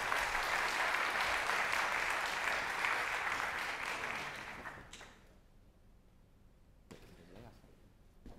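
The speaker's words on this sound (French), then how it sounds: "je vous demande de l'applaudir" An audience applauds a gold-award winner, a butcher-charcutier, at a small-business awards ceremony; steady close clapping fills the first five seconds, then fades to a quiet room with a few scattered claps.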